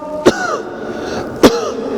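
Two short, sharp coughs about a second apart, close and distinct, over a soft steady background with faint voice-like tones.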